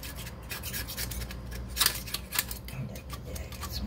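An old radiator mounting surface being scraped clean, short rough rubbing strokes close by in an uneven rhythm, with a couple of sharper scrapes standing out midway.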